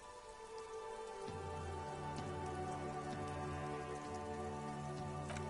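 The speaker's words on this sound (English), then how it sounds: "Rain drips from the eaves and floods the gutters," Rain pours steadily on a city in the video game Disco Elysium, a constant hiss of drops over a low droning score that swells in partway through, with no voices.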